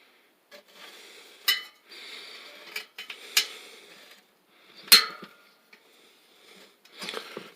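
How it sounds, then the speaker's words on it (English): Bicycle wheel being trued with a spoke wrench, giving a few faint scraping and ticking sounds around several sharp metallic clicks, the loudest a crisp pop as a spoke breaks loose, heard up close. "Hear it pop as it broke loose."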